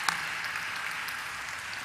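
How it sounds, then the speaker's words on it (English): Audience applause at the Senco Gold Limited stock exchange listing ceremony, a short, even burst of many hands clapping at moderate distance, steady throughout with no voices standing out. "let's have a huge round of applause for Senco Gold Limited"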